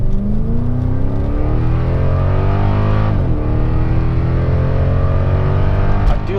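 A Cadillac XLR's engine runs steadily nearby, a loud, continuous drone with rising and falling pitch sweeps as it revs, with no talking over it.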